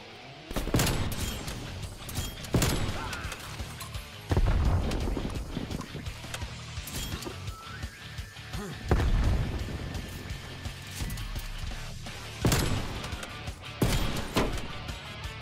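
Sniper rifle fire in a first-person shooter game, sharp loud reports roughly every two seconds over a busy bed of game noise, mechanical clatter and impacts.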